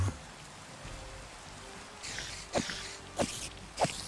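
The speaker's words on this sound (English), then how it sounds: "Ah, the rain, of course." Rain falling in the Minecraft video game, a soft steady hiss through the whole stretch, with a few sharper taps or steps standing out near the end.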